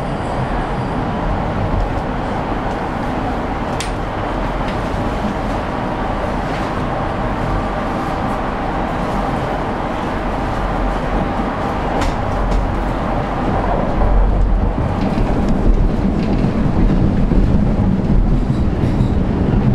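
A Toronto subway train runs between stations, a loud steady rumble and roar of wheels on rail with faint clicks, swelling louder toward the end as it approaches College Station.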